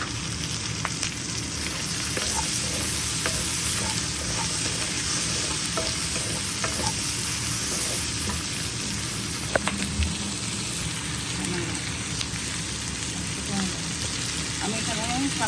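Three kinds of chopped capsicum sizzle in a hot pan for Chinese-style shrimp, a steady, fairly quiet frying hiss with occasional stirring scrapes and a faint high whine running throughout.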